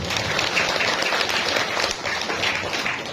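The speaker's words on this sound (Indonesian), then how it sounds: "Tepuk tangan untuk ibu sekalian." Sustained applause from a crowd at a village hall community event, dense and even clapping filling the whole stretch without pause.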